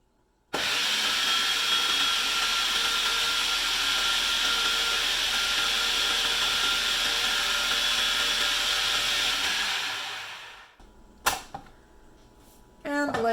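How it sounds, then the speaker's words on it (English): Food processor blending a tofu alfredo sauce, running as a steady loud whir for about ten seconds before shutting off, followed by a few faint clatters and knocks. "Now that that's all in, all you have to do is blend her up."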